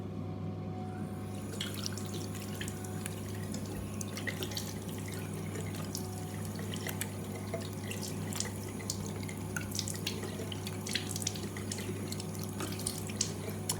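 Tap water runs steadily into a sink during face washing, a continuous quiet trickle with small splashes and drips close by, alone without talk.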